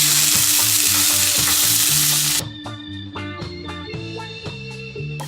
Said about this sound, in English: I've got a nice hot oiled cast iron pan. I'm going to add a handful of asparagus and a little over a half of an onion.